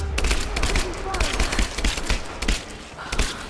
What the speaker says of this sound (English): How many times do I gotta shoot this guy?